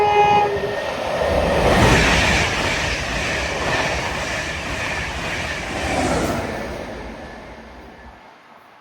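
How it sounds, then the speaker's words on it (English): A train rushes through a London station platform without stopping, a loud, continuous rumble and rattle of wheels that swells and fades over several seconds, with a brief horn-like tone, and no voices. "Train now approaching platform 4 does not stop here."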